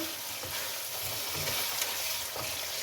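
Mutton heart and liver masala being stirred in a frying pan, giving a continuous soft sizzle with repeated scraping stir strokes, close and fairly quiet, with no talking.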